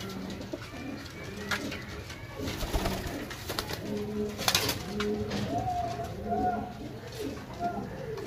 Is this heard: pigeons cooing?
yes